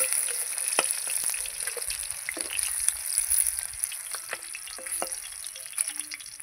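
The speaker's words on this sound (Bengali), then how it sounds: "এই যে আমি এইভাবে লাল লাল করে ভেজে নিয়েছি মাছগুলো।" Fish fries in a pan of hot oil, giving a close, steady sizzle with scattered sharp pops and crackles and a few light utensil clicks, and no speech.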